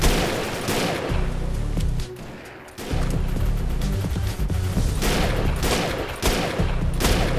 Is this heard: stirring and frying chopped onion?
no